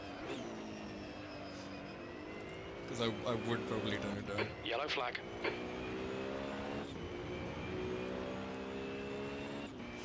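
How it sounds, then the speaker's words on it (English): A GT3 race car engine drones and revs in a sim racing game during an esports championship, steady and loud with a burst of rapid shifting midway, while someone talks over it throughout. "Can you still hear me while the engine is revving?"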